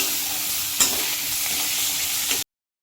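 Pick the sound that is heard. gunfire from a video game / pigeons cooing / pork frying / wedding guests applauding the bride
pork frying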